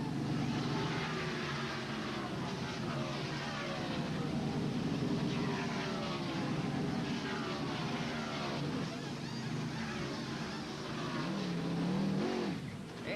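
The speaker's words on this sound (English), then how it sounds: "Let's just listen into the sounds of a pit stop in action." A NASCAR race car pit stop at the 1992 Miller Genuine Draft 500, with a loud, continuous engine roar and cars passing, a dense, steady wash of noise throughout, swelling near the end.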